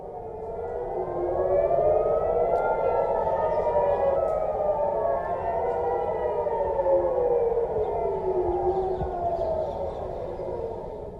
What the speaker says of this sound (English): In Tel Aviv and central Israel, sirens wailed and warned of missiles.